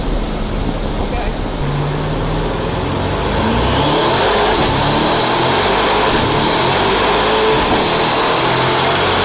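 A twin-turbo C8 Corvette engine roars continuously on a dyno, a loud, dense sustained drone that builds slightly in intensity partway through.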